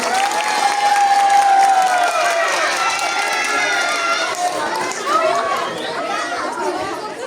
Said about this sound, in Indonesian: Beri tepuk tangan yang meriah untuk kelompok